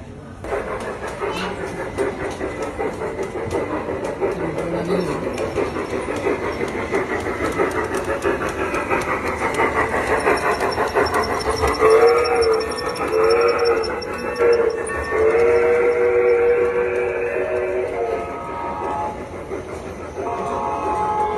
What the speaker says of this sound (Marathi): ग्रीन लाईट लागली म्हणजे आता आपली ट्रेन येते इथून